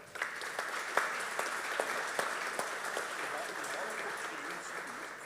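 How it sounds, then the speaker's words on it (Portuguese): Audience at a viticulture conference applauding a speaker, a steady crowd clapping at moderate distance with a few louder individual claps near the start, fairly quiet overall. "Uma salva de palmas."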